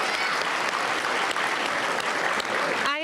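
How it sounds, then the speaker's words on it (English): Audience at the grand opening of the Hillsboro School Performing Arts Center breaks into steady, dense applause that fills the hall, continuous and fairly loud with no talking over it. "Let's give a round of applause."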